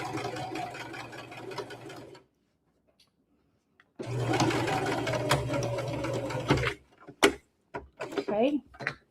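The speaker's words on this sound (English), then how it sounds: "we're just going to sew around it until we get back" Sewing machine stitching around fabric, two steady whirring runs of a couple of seconds each separated by a pause, close and clear, followed by clicks and brief talk.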